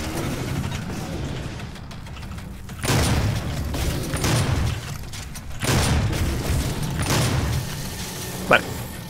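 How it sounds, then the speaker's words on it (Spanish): Heavy booming DOOM gunshots go off in a few rough bursts over a steady background rumble, with one sharp crack near the end; voices are faintly present. "Cuatro disparos."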